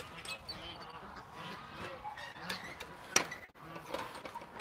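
A duck with an infected foot quacks in a few scattered, fairly faint calls outdoors, mixed with low background noise and a sharp clack midway.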